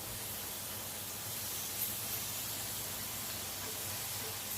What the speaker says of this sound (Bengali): এখন বাঁধাকপি কুচিয়ে রেখেছিলাম সেটা দিয়ে দিচ্ছি